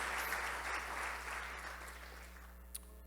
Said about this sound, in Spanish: Give a round of applause to the Lord.